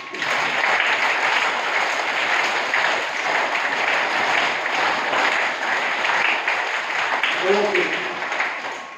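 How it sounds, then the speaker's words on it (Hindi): School students clap with hands raised overhead, loud sustained applause from a large group, with a voice briefly heard near the end. "ओके, ऊपर ताली बजाएंगे।"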